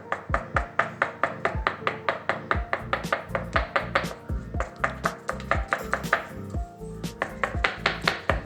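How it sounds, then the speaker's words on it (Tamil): Cupcake cups filled with batter tapped repeatedly on a surface to release air bubbles, a fast steady series of close, sharp knocks with resonant thuds, continuing throughout in short bursts. "நல்லா தட்டி கொடுத்துக்கணும்."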